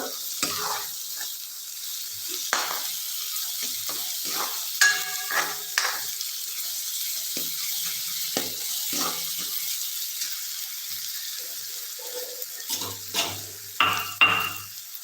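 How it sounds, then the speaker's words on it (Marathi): Onion frying on a medium gas flame until golden for a Solapur peanut aamti, with repeated stirring scrapes and clinks over a continuous sizzle, fairly close and with no talk. "मीडियम गॅसवर कांदा परतून घ्यायचा आहे गोल्डन रंगावर"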